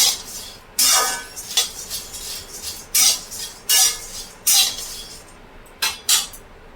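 Dry puffed rice (muri) being fried and stirred in a pan, heard as a series of loud, close scraping and rattling bursts in an irregular rhythm, with no talking.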